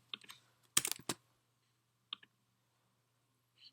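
Keys clacking on a computer keyboard while writing Python code: a cluster of crisp, close key clicks, then a few isolated taps separated by silence over a faint steady hum.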